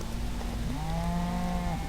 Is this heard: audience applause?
no